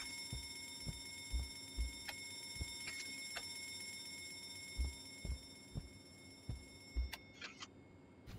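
A video-game alarm rings continuously as a faint, steady electronic tone in the game Escapando de Juan Fernandez, with soft scattered thumps and clicks beneath it.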